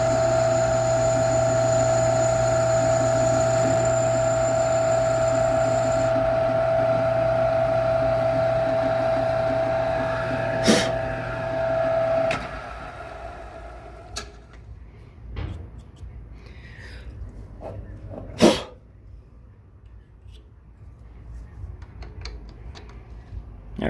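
A machine drills a forklift A/C compressor drive coupler down to depth, a steady loud tonal whine and motor hum that cuts off midway, followed by quieter clunks, a couple of sharp knocks and faint rustling.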